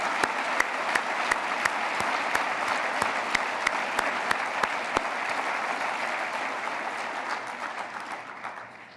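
Sustained audience applause at an awards event, a dense, even patter of many hands clapping with a few sharper nearby claps, slowly thinning and fading toward the end.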